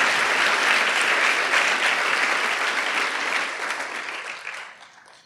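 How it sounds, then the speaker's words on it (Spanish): A church congregation applauds in a dense, sustained roar of clapping that stays strong for several seconds, then thins and fades out toward the end. "Dele un aplauso a su papá, al Padre de los Espíritus."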